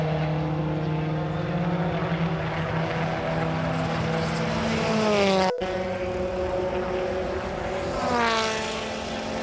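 WTCC touring race cars at the Slovakia Ring in Bratislava during qualifying, engines screaming through a corner with rising and falling revs as one passes close, then another climbs in pitch.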